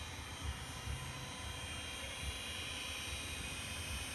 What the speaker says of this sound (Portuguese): O motor rodando.